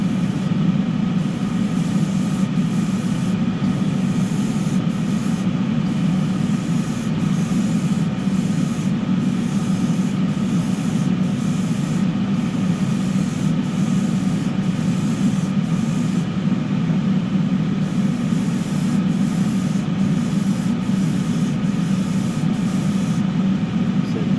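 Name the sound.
painting a second coat of paint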